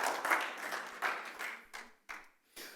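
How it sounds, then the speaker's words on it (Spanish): Church congregation clapping during a Sunday service, a moderately loud patter of many hands that swells, fades and restarts in a few short bursts, heard alone without talk. "Dale un aplauso al Señor con fuerza."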